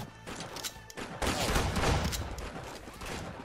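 Shotgun blasts in Roblox Arsenal come in a burst of sharp gunfire over continuous game noise, with a dense flurry of shots in the middle before it thins out.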